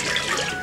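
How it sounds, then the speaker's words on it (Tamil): Water pours steadily into a cooking pot while country-chicken dum biryani is being prepared. It is a short, continuous splashing gush with no voices over it. "6 டம்ளர் தண்ணி ஊற்றலாம்."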